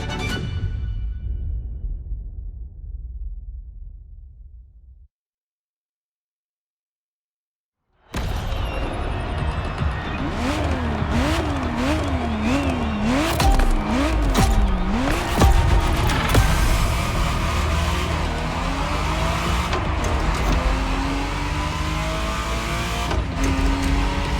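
A Ferrari Testarossa in The Crew Motorfest starts with a loud engine drone that fades to brief silence. The engine then roars back, revving repeatedly with rising and falling pitch, tire squeal and continuous racing noise throughout.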